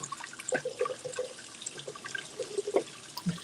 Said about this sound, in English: Bro, just turn off the faucet until you got it in there.